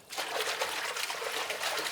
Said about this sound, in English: take your hands and just really wash those turnip greens around